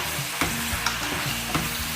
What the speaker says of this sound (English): give it a good stir so it mixes with the onion and all the spices